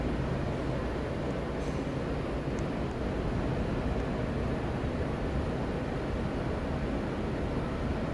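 Steady, continuous rumble and rattle from inside a moving subway train, a constant broadband roar of wheels on track filling the car with no breaks or talk.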